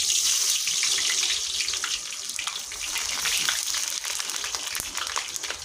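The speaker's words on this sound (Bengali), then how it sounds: "তেল ঢালছে" Cooking oil pours into a dark kadai for biryani, a continuous gushing, splashing stream with fine crackling over a steady hiss, fairly loud and close throughout.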